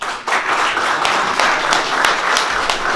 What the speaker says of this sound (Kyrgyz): Өзүңүздөр кол чаап коюңуздар.